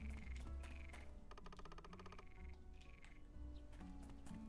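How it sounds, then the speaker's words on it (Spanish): Cicadas buzz and chirp in a dense outdoor chorus in a Shin chan game, with a rapid pulsing trill in the middle, soft and steady throughout, no voices. "Se escuchan las chicharras por ahí."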